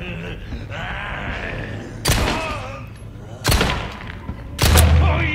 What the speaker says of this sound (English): I try shooting him in his nuts.